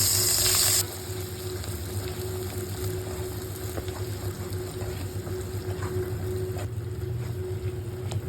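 Ground masala paste for chana masala frying in hot oil in a kadai, a steady broadband sizzle under a low constant hum, with a louder burst of hiss at the start as the paste hits the oil.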